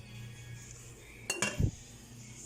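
Metal pots clank and a ladle clinks against them in a short burst of two or three knocks, fairly close, with no talking.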